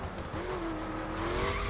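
Ford Focus RS engine in The Crew racing game, a steady droning tone that climbs slightly as the car accelerates, with tire noise underneath and no talk.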